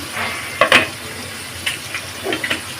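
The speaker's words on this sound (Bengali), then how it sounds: "আমাদের অধরা দেবী রুই মাছ ভেজে নিচ্ছে" Rohu fish frying in a pan, a low sizzle broken by a few sharp spits and clatters of handling up close.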